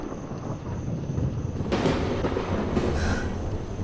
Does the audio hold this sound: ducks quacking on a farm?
no